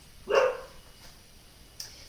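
A small Wheaten Terrier and Lab mix dog gives one sharp, close bark, followed by a much fainter second yelp a moment later in an otherwise quiet room.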